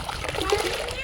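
Children splash and slosh in water nearby, with bright splattering and young voices chattering over it.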